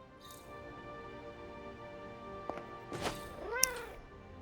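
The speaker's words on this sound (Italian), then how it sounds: "ho sentito il gatto, dove cavolo è?" In Marvel's Midnight Suns, a cat meows twice in quick succession near the end, clear and close, over quiet background game ambience.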